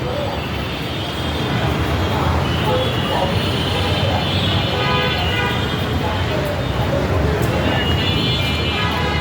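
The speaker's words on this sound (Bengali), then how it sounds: "এই যে এখন আমরা মেট্রো রেল থেকে নামতেছি নিচে।" Metro rail train in Agargaon, Bangladesh, with a steady broadband rumble of rail and traffic noise throughout while people talk nearby.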